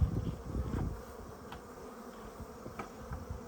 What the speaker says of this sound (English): So you just put about half a cupful of bees into here